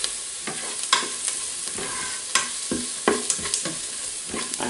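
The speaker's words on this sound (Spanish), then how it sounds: "Para sofreírlo, pero que no llegue a quemarse." Onion fries with black pepper in a pan, a steady sizzle broken by repeated scraping and knocking as a utensil stirs it, close up with no voices.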